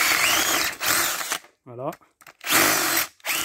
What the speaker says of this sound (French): j'ai pris la visseuse, j'ai mis la mèche de bois